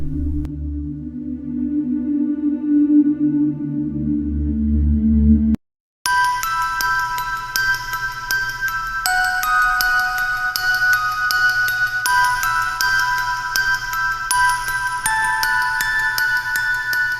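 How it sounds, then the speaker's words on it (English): A phone rings for an incoming call from a girlfriend: a repeating electronic ringtone melody of clear bright tones that keeps cycling for many seconds after a low droning passage and a brief gap. "Sam was relaxing watching TV when he got a phone call from his girlfriend Ginny."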